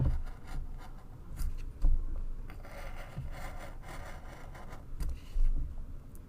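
A craft blade cuts around an image into chipboard, making quiet scratchy rubbing and scraping strokes in short irregular bursts, close up with no talking.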